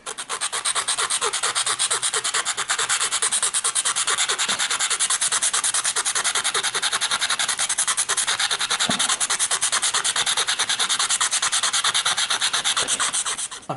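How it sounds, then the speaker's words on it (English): A 3D-printed 00 gauge plated girder bridge side gets filed down by hand, producing a continuous fast rasping scrape of steady, rhythmic strokes that stays loud and close throughout, with no talking. "So what we can do is we can file that down."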